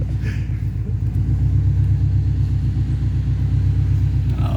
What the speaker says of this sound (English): It's that anti-lag braking